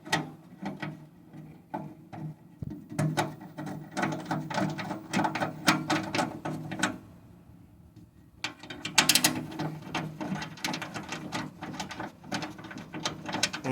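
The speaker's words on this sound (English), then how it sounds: "And this is much better when you do it with a ratchet." A hand ratchet tightens 10 mm bolts on a Kubota L3800 tractor's three-point hitch while swapping a backhoe for a mower, giving close, loud runs of rapid clicking in bursts with a short pause midway and no talk.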